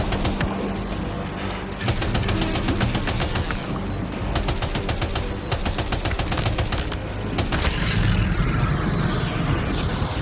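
Machine gun fire in Death Stranding 2, long sustained rapid-fire bursts with steady clattering rhythm, loud and close, broken by brief pauses before firing resumes.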